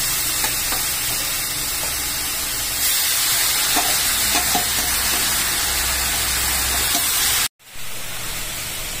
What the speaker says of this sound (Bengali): এই যে নারকেল নাড়ুটা এখন খুব ভালো করে নারকেলটাকে আমি নেড়ে নিচ্ছি